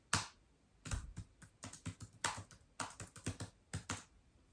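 Quiet, close typing on a computer keyboard as a book is written, with irregular bursts of sharp key clicks separated by brief pauses.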